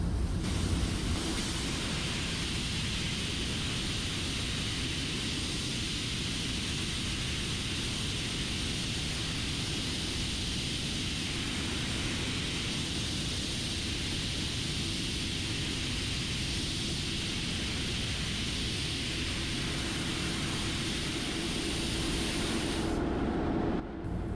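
Compressed air hisses steadily and loudly from the last starting air tank as it is drained, a continuous broadband rush lasting about twenty-three seconds before cutting off abruptly.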